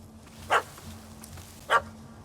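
A dog barks twice in The Witcher 3, two short separate barks about a second apart over a quiet game ambience.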